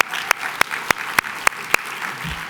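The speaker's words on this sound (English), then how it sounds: "let's give a round of applause for that." Sparse audience clapping at a volunteer conference, a few sharp, evenly spaced loud claps standing out over a low murmur of the room.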